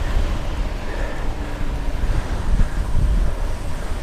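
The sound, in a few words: strong wind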